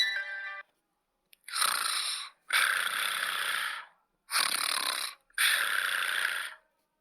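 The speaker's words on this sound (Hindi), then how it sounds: "खर्राटे मारकर सो रही होती है" A woman snoring in an air-conditioned train carriage: four long, rasping snores in steady succession, each a broad harsh rattle with short silent pauses between, close and fairly loud.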